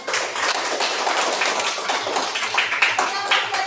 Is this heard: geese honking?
no